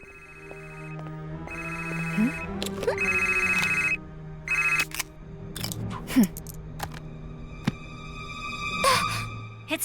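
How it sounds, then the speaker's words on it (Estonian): A phone ringtone chirps in several electronic bursts with pauses between them, fairly close and clear over a low background hum. "Ma helistan talle ikkagi."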